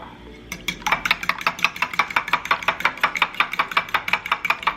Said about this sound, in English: go ahead and whisk 2 eggs into a bowl